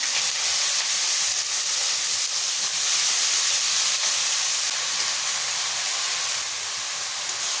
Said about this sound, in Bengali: কিছুক্ষণ ভাজতে থাকবো